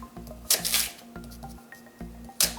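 A knife slices fresh rhubarb stalks into half-inch pieces on a board: repeated crisp chops in a steady rhythm, close up and clear, with no voices.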